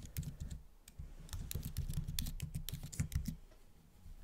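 Rapid typing on a computer keyboard while writing code, a close, steady patter of key clicks lasting about four seconds with no talking.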